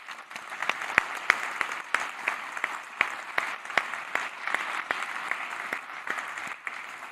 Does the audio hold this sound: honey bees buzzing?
no